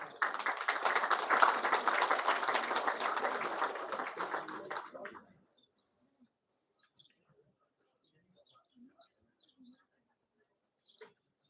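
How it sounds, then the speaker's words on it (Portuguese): Assembled guests at a naval marine course graduation ceremony applaud in a steady, full burst of clapping for about five seconds, which stops abruptly and leaves near silence with a few faint ticks. "Convidamos os senhores a aplaudir."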